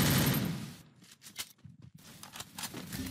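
Video game gunfire in an online PvP match: rapid bursts of automatic shots crackling in clusters, loud and dense at the start, then broken volleys of separate shots toward the end.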